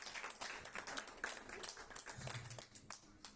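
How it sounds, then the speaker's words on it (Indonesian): A church congregation applauds during a worship service, a dense, steady patter of many hands clapping at a distance, fairly faint and without talk. "Tepuk tangan buat Mas Gilang."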